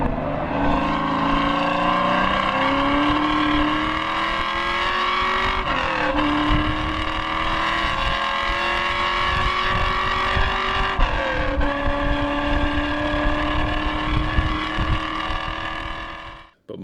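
A hard-revving car engine on a race track, running loud and continuous through several gear changes as pitch climbs, drops briefly and rises again, with no talk over it.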